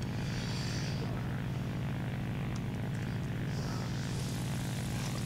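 Propeller engine drone of a Bristol Beaufighter in a flight combat video game, a steady loud low hum running throughout with some higher whine rising and falling, no voices over it.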